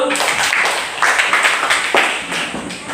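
Students in a classroom clapping together on their teacher's cue, a brisk close burst of hand claps in loose groups over about three seconds.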